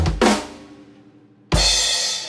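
A fast drum fill at the end of a chorus, played alone and close: a quick burst of hits, a pause, then a loud crash-like strike that rings out.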